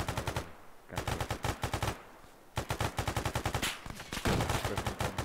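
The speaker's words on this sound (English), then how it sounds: "Wait, there's a heavy machine gun." Heavy machine gun fire in a video game comes in rapid, loud bursts separated by short pauses, repeating across the clip with no talking.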